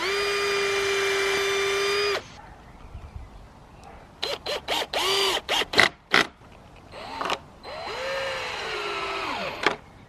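A power drill bores a pilot hole into wood for a raised-bed border at an allotment, with a long steady whine followed by a string of short, stuttering bursts as the trigger is pulsed, close and loud.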